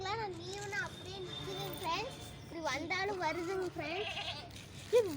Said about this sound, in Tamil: இப்போ அந்த அம்மா ஆடு கத்த ஆரம்பிக்குது பாருங்க.